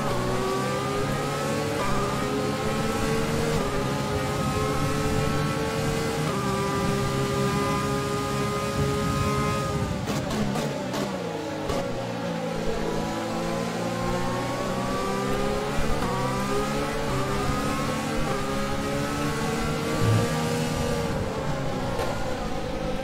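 A Formula 1 car in the F1 2020 video game revs continuously, its engine pitch climbing and dropping through gear changes for the whole stretch, loud and close without talk.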